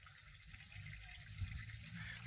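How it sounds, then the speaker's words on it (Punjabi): Strong rush of water pouring from a farm motor pump outlet, a steady broadband gush that runs continuously and fairly close throughout, with no voices over it. "ਉਹ ਪਾਣੀ ਤੇਜ਼ ਹੋ ਗਿਆ ਰੇ"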